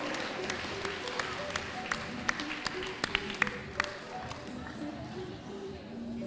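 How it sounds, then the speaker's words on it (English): Scattered applause from an audience at a horse auction, with sharp individual claps standing out amid a murmuring crowd and some talk in the background. "a round of applause, the new owner of Tabata K.A. in foal and a colt."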